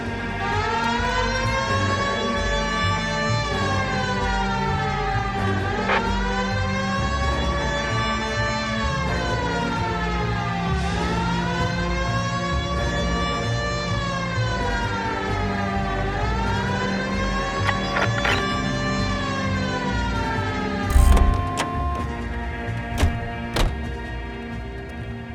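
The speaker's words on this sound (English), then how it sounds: "Hit the siren." A police siren wails steadily in rising and falling sweeps throughout, loud and close, from an LAPD car in the video game L.A. Noire, with a few dull thumps near the end.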